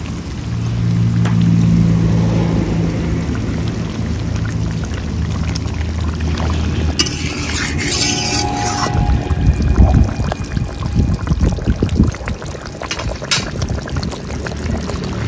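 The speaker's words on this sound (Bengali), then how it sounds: "এবার ভেজে রাখা মাছগুলো ঝোলে ছেড়ে দেব।" Fried pomfret pieces slide into a simmering spicy curry gravy in a pan, setting off a sustained sizzling, bubbling rush that swells midway with crackling splatter and continues steadily, close and fairly loud, with no talking.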